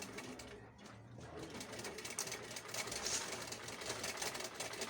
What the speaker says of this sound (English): I'll top stitch it on with my sewing machine